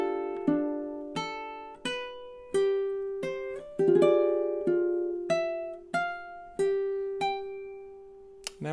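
Solo ukulele playing two measures of a Hawaiian song, a steady sequence of plucked notes and chords ringing and decaying one after another, close, clear and without speech.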